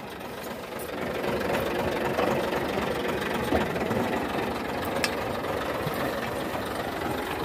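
A tractor engine runs steadily on a wheat field at harvest, a close, continuous, rough mid-pitched drone with a faint knocking texture that never lets up.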